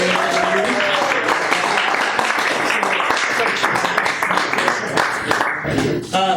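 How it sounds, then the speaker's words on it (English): Audience applause for the Owl at a community talk night, dense clapping from a room full of people throughout, with a voice speaking over it. "One more round of applause, please, for the Owl."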